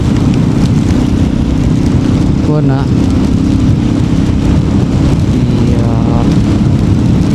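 Rain and strong wind roar during a motorbike ride on the way to Gokarna, loud and continuous close to the microphone, with traffic noise and brief speech mixed in.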